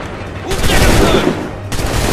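A loud, close musket volley in Assassin's Creed III: a dense burst of many shots fired together that breaks out suddenly, rolls on for about a second, then fades back to ambient noise.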